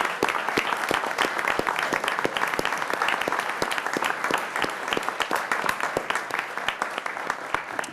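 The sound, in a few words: applause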